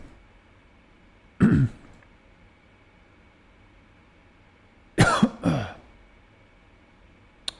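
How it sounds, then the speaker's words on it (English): A man at a live-streamed flight-simulation radio session coughs twice: one short harsh burst early, then a louder double cough a few seconds later, each standing alone over quiet background hiss. "Excuse me for the coughing there, boys."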